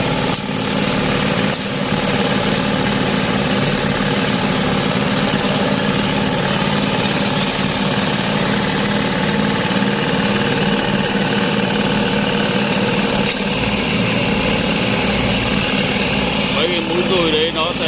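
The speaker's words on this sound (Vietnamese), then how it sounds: "Động cơ chạy bằng dầu hay bằng xăng gì đấy mới nổ." A diesel or petrol engine on a railway track maintenance machine, one with tamping tines that drive into the ballast, runs steadily and loudly nearby. Its throbbing drone holds through the whole stretch, and faint voices may sit under it.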